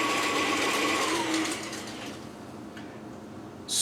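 An electric mixer whirring steadily as it beats eggs into pumpkin cookie dough, a loud motor drone that eases slightly midway before a brief louder burst at the end.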